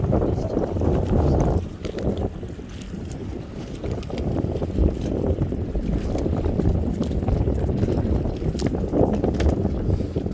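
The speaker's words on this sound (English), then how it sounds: "now the wind's picking up" Wind buffets the microphone aboard a Santana 28 sailboat on the Columbia River, a loud, continuous rumbling roar that surges and eases, with a brief lull early on.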